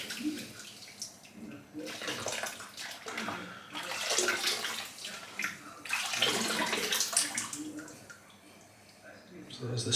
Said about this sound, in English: I shall rinse the soap out now anyway.